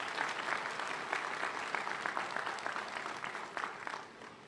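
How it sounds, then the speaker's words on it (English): A full crowd applauds at a 2023 college graduation ceremony, a dense and steady wash of clapping that holds at a loud level for about four seconds before easing off slightly at the end. "so let's give Donna a round of applause."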